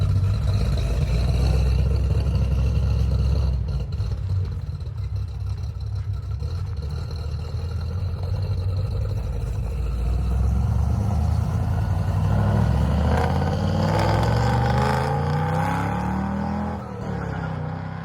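A 1965 Chevrolet El Camino V8 burbles through a custom exhaust with aftermarket mufflers at a rough idle, then revs up in several rising, throaty bursts near the end.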